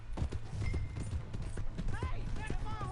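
Horse hooves clip-clop in a steady rhythm in the video game Red Dead Redemption 2, mixed with creaking tack and game sounds while people talk over them.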